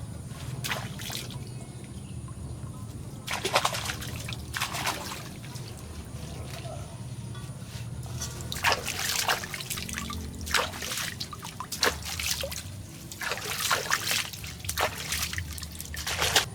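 Water spinach is washed in cold well water beside a rice field, with repeated splashing and trickling bursts over a low steady outdoor background.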